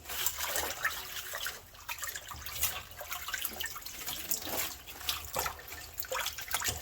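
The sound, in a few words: water running in a sink while rinsing mustard greens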